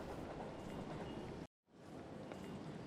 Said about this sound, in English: You are on a platform at a train station where you stumble across a notice.